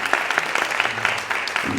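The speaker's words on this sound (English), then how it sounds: "And a big round of applause for Fred." A crowd at a talk claps loudly and steadily in a continuous wash of applause, close and even throughout.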